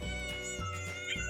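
A cat meows in a long, drawn-out, complaining voice, close and loud, two sustained calls in quick succession with no speech over them.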